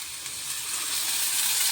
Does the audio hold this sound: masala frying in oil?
yes